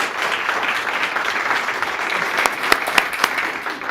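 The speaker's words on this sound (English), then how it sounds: "So let's give Ms. Smothers a round of applause, please." Applause at a school board meeting, a room of people clapping steadily and fairly loudly, with a few sharper claps standing out near the end.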